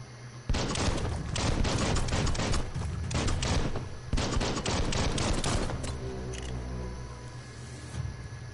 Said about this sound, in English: Well, that's a lot of bullets.